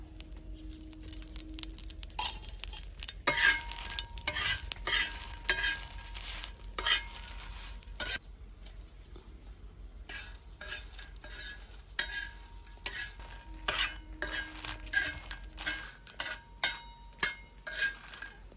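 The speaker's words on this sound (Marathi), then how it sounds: "हे मिरच्या भाजतो तेल टाकतो" Chilies being roasted and fried in oil, heard as soft sizzling under repeated stirring and the scrape and clink of a utensil against the pan, close by and fairly quiet, with no talk.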